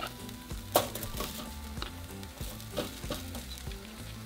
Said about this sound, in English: now we're going to grill our 1/2 of white onion, our tomatillos, our chiles serranos,